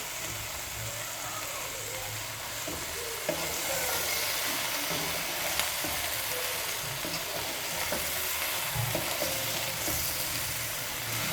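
Macaroni pasta fries and is stirred in a pan, giving a steady dense sizzle throughout with occasional scraping stir sounds, close and continuous with no talking.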